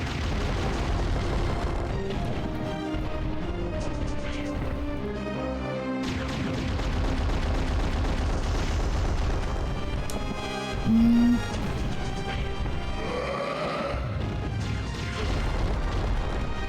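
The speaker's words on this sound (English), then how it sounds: "I'm just glad I'm actually getting bomb hits on him now." Game audio from Alundra in which bombs explode against an enemy, heavy booms and crashes recurring over a dense, continuous layer of music and effects.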